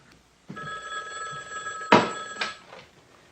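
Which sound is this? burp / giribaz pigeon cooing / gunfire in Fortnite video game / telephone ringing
telephone ringing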